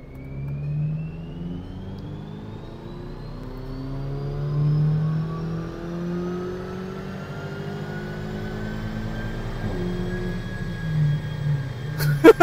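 A car with a 2L TSI engine and DSG gearbox accelerates through its gears on a power run, engine pitch climbing steadily with smooth upshifts, a whirring whine rising above the moderately loud drone, ending in a couple of sharp clicks.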